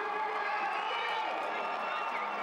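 Football stadium crowd in Las Vegas during a women's football league game, a broad steady roar of cheering and crowd noise that holds throughout without letting up.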